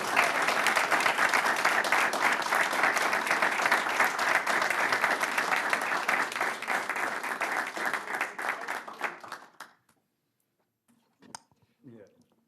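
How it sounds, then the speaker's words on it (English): A crowd applauds at a Rancho Cordova city council meeting, loud dense clapping that runs for several seconds and thins out before stopping abruptly, followed by near silence broken by a few faint scattered sounds. "So let's give these brothers another round of applause."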